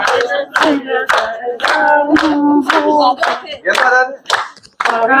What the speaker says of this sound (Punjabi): ਬਾਕੀ ਤਾੜੀ ਮਾਰੋ ਇਹ ਮਾਰਾ ਤਾੜੀ